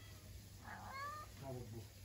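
A cat on a village street in Gönen, Turkey, lets out a couple of short meows close by against a low background hum, with a person speaking nearby.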